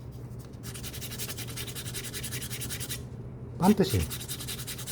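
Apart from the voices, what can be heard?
sandpaper smoothing a leather bag handle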